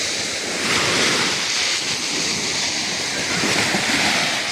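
Strong sea waves at the shore of Samal Island, a loud, continuous roar of surf mixed with wind buffeting the microphone, with no talk over it.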